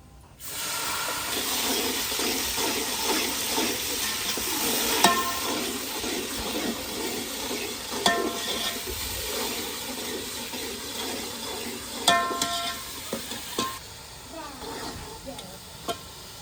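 Onions fry in a pan with a steady, loud sizzle and repeated scraping stir strokes, a few sharper clinks of the spoon against the metal, in a village kitchen.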